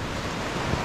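Sea waves wash steadily at a beach at Ulcinj, Montenegro, a dense, continuous roar of surf and wind, loud and close, with no talking.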